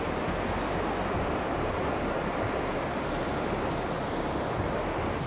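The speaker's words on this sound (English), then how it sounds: "So this right behind me then is Victoria Falls" Victoria Falls thunders as a steady, dense roar of falling water, loud and unbroken throughout with no voices over it.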